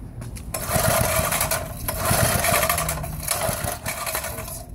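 A small engine runs on non-chlorinated carburetor cleaner, a loud, steady, buzzing drone with a brief rise at the start and rough, fluttering pulses throughout, close by with no talk over it.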